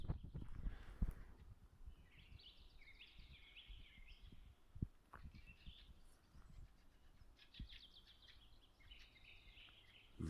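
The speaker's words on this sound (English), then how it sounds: "Listen to the birds." Birds sing in a forest during a walk, bright chirping phrases coming and going at a moderate distance over quiet background rustle and occasional low thumps.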